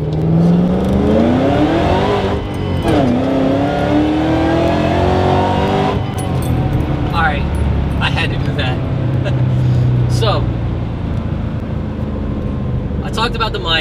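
A car driving on the road, a steady engine drone and road rumble heard from inside the cabin, with the engine pitch rising and falling as it shifts gears, while someone talks over it.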